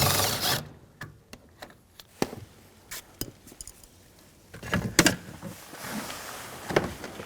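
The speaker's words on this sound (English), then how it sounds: "we're going to hold the mirror with one hand, take that nut off" A ratchet works a side mirror nut off an Acura MDX in a string of quick, close clicking and scraping bursts, irregular and fairly faint, with small rustles and knocks between them.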